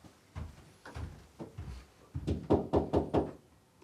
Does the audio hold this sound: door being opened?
yes